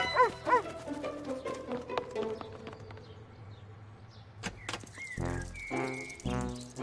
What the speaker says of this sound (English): I didn't know you had a dog.